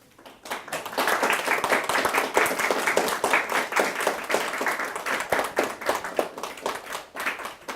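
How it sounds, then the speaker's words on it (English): A church congregation at a Sunday teenage service breaks into a burst of sustained applause, many hands clapping loudly and evenly for several seconds before it fades slightly. "Let's clap for them."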